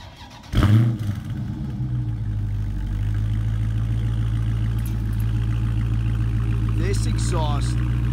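A 2019 Dodge Charger Scat Pack's engine fires up with a sharp, loud burst, then settles into a steady, deep rumbling idle close by, with brief voice sounds near the end.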